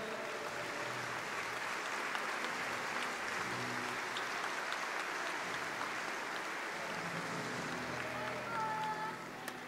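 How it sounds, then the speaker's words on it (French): Crowd at a cesta punta Grand Slam final applauding four players, a long, even wash of clapping that runs throughout, with a voice over it. "On peut à nouveau applaudir ces 4 joueurs."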